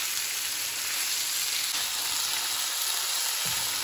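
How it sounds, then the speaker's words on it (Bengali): Potato and yardlong bean stir-fry sizzling loudly in a pan as it is stirred, a steady close hiss without speech. "সুন্দর করে নাড়াচাড়া করে নিচ্ছি আমরা আমাদের সবজি"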